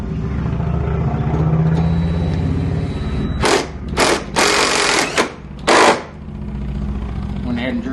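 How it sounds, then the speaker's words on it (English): A power drill bores holes for a third brake light install on a 2021 RZR 1000 XP, with three loud bursts of whirring and grinding, the second and third long, set against idle shop background noise. "Went ahead and drilled these up through there."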